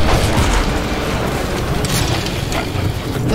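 Rocket explosion in the game Choo Choo Charles, a loud, booming blast and rumble that rolls on with mechanical clatter, close and dominant, with no voices over it.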